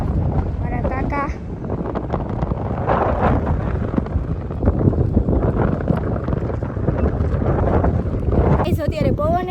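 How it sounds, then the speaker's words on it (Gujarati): Strong gusts of outdoor wind buffet the microphone in loud, steady rumbling bursts, with people talking over the noise throughout. "અત્યારે પવન એટલો આવે છે"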